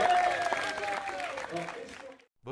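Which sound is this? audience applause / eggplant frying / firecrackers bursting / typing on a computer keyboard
audience applause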